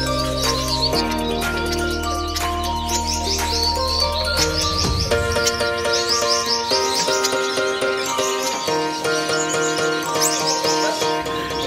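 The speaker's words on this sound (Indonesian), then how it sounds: "Gold Amadin atau Golden Finch merupakan salah satu burung pipit termahal di dunia." A Gold Amadin, also called the golden finch, gives repeated high, quick chirps in short bursts over a steady musical backdrop that runs the whole time.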